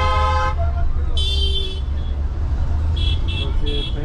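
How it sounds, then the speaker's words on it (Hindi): Car horns honking in congested Patna street traffic: a long blare, then another, then three quick toots, loud and close over a steady low engine rumble. "तो भाई लोग यही है पटना की ट्रैफिक"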